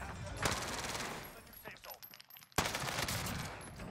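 Video game gunfire comes in rapid bursts of loud shots, with a big blast near the middle and continuous firing after it, over ambient game noise and voices of players talking.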